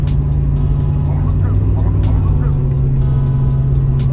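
An antique Cadillac cruising on a highway in second gear, its steady engine and road drone running throughout under nearby talk.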